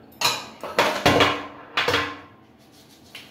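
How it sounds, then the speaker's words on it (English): A small tin of Schmiere Hart heavy-hold pomade clatters onto a bathroom sink, several sharp metallic clanks and rattles in quick succession, close and fairly loud, then settling into quiet. "Drop the pomade onto my sink."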